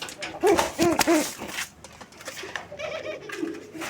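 Pigeons coo at a pigeon fair where raj-golla and madrazi-golla breeds are sold: three or four close, rolling coos come in quick succession, then fainter bird calls and background chatter follow.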